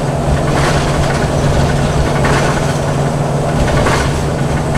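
Gas RV engine pulling up a small hill, heard from inside the cab: a loud, steady low rumble with road and drivetrain roar, holding an even drone throughout with no talking.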